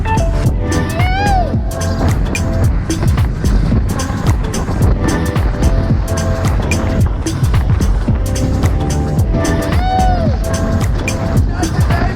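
A home-built skiff boat running on the water, its outboard motor droning loud and steady with rising and falling whines, and wind and water rushing close by throughout.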